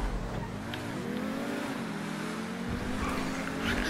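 Engine of a car being driven in a video game, a steady droning motor with shifting pitch as it revs, heard under faint background talk.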